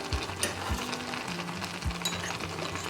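Shredded cabbage stirred into a hot pan of vegetable noodles, a steady close sizzle with a few low scraping stirs, no talk.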